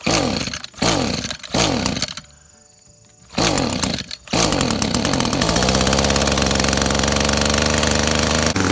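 Echo SRM225 string trimmer two-stroke engine with a new carburetor, pulled over in a few sputtering bursts, pausing briefly, then catching and running steadily and loud, close up.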